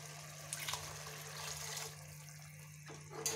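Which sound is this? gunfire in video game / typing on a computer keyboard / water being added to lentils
water being added to lentils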